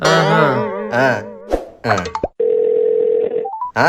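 A telephone call is placed, with steady dial tones and short beeps after a stretch of lively, sung or exaggerated voices.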